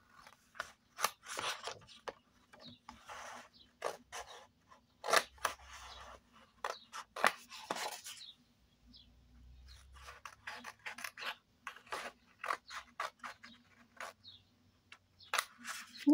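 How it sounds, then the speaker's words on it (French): Small scissors snip through paper in quick, crisp cuts up close, coming in irregular bursts of clicks with brief pauses between them, quiet and without talk. "Le petit ciseau va très bien."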